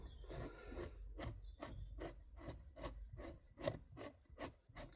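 A homemade JB Weld epoxy nut is screwed onto a rough bolt thread, giving close, quiet gritty rasps that come as rhythmic scraping pulses about twice a second.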